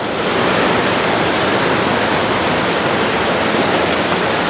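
Creek water rushes through a raised gate at an old grist mill, a steady, dense hiss of flowing water, close and unbroken with no voices.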